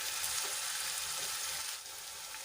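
Onions sautéing in oil in a pan until golden brown, giving a steady, close sizzle and crackle that runs evenly throughout with a slight drop near the end.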